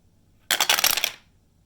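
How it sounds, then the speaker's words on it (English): Plastic dice rolled for a book-themed board game rattle and clatter in a quick burst of about three-quarters of a second, close and fairly loud, then stop abruptly with no talking. "So that means I get to roll again in Bookopolython. Let's go with blue dice today."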